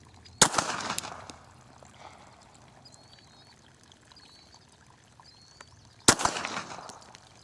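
Pistol shots from a Glock 42 chambered in .380 at a shooting range: two sharp reports about six seconds apart, each with a reverberant tail, separated by quiet room noise and faint clicks.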